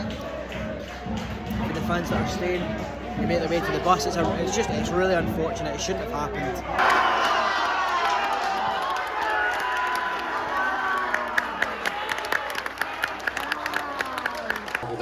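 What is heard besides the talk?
football fans applauding departing away supporters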